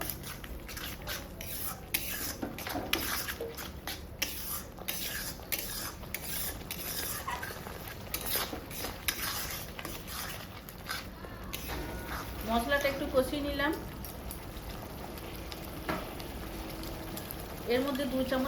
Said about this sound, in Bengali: এই মশলাটা একটু কষিয়ে নেবো